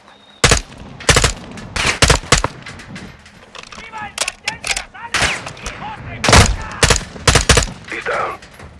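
Gunfire in the video game Call of Duty: Modern Warfare II, with sharp, loud bursts of automatic fire and single shots in an irregular rhythm, alongside voices talking over the action.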